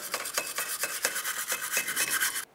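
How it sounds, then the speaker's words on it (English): A brush scrubs the brake backing plate of a 1999-2003 Toyota Solara during a parking brake shoe job, rapid rhythmic bristle strokes, close and steady, then stopping abruptly. "Now let's take a brush. We're gonna clean up this area."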